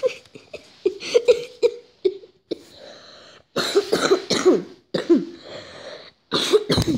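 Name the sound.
coughing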